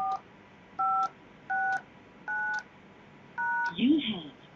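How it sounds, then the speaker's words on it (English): Keypad tones from an AudioCodes 440HD IP phone entering a voicemail PIN: five short, evenly spaced dual-pitch beeps, clear and close, ending with a brief rush of other sound. "Enter your PIN, then press pound."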